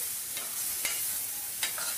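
Tomato puree stirred into carrot and fenugreek sabzi in a hot pan, a steady close sizzle broken by a few scraping stirs of a spoon.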